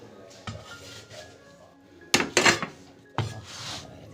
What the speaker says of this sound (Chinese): 好，装盘子。